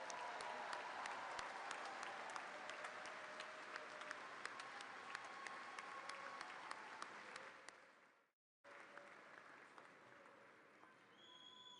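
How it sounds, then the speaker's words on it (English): A large crowd at the Virginia Tech Spring 2019 Graduate School commencement applauds graduates, steady distant clapping for about eight seconds, a brief dropout, then softer continued applause. "Please join me in one more round of applause congratulating all of our graduates."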